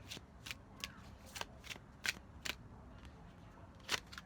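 Tarot cards being shuffled in several quick riffling bursts, crisp papery rustles spaced through the clip over a low room background.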